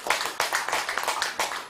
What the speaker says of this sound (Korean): 그럼 박수를 한번 쳐보십시오